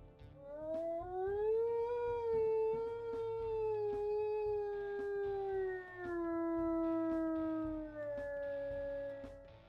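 A wolf in the game WolfQuest howls in one long, steady, sustained howl that rises and slowly falls, faint and clean with small clicks scattered through it.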